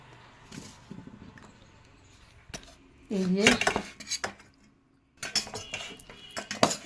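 Cutlery and dishes clink and scrape in bursts during a home meal with rice and fish curry, the clatter close and sharp, separated by short quiet pauses.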